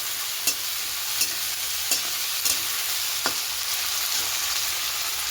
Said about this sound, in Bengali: পেঁয়াজ, টমেটো, লঙ্কা, আদা, রসুন সব একসঙ্গে দিয়ে একটু নেড়ে নেব